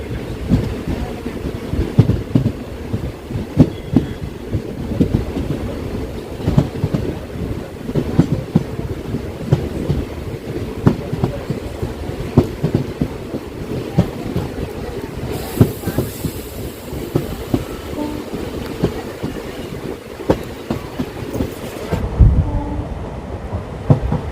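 An Intercity superfast express from Mangaluru Central to Coimbatore Junction runs through Kerala, a steady loud rumble with rhythmic clickety-clack of wheels on rail joints, near and continuous throughout, ending with a brief burst.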